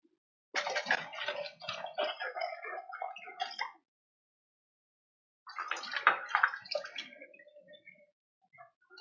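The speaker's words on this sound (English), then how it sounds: "Let's rinse all these 2 brushes." Paint brushes rinsed and swished in a jar of water, two sustained bursts of splashing and sloshing separated by a quiet pause, close and alone.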